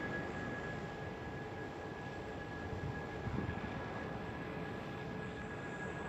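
A Turkish Airlines Airbus A330 passes at Amsterdam Schiphol, a steady broad jet roar that holds at moderate loudness for the whole stretch with no voices.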